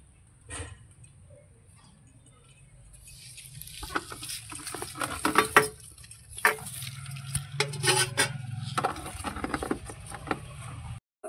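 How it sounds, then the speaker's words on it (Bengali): Garlic, cumin, salt and black pepper being crushed on a traditional grinding stone for a mutton curry, with irregular scraping and knocking strokes that grow denser and louder toward the end, close up in a quiet kitchen. "আমি বাটবো আজকে সিলে মশলা।"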